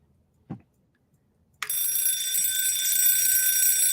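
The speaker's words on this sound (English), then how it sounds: "And let's hear the alarm." A vintage alarm clock gives a single soft click, then bursts into a loud, continuous bright metallic ringing that keeps going steadily, close by, with no talking.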